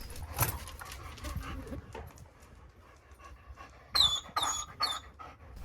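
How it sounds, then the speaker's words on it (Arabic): A new dog whimpers and cries in several short, high, whiny bursts near the end, following quieter panting and shuffling earlier, with faint low background hum. "الكلب الجديد ديالنا حس بالقنط وبدا كيبكي علينا"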